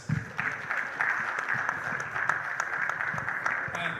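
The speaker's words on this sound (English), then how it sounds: "let's have a round of applause for Esau Williams" Audience applause for the chair of a judging panel at a live event, a steady wash of clapping from a room of people over four seconds, with a murmur of voices beneath it.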